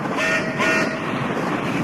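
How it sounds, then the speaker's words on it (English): A huge train roars past as an audiobook sound effect: a dense, steady rushing roar that swells twice, with a faint horn-like tone running underneath, loud and close with no talk. "It was a huge train bearing down on them."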